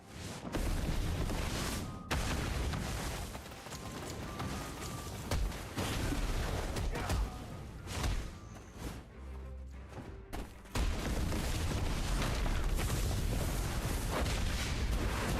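Spiral cannon attack in a video game, heard as a dense, loud run of booming, artillery-like blasts and impacts. One short gap comes near the middle, and then the barrage resumes at full strength.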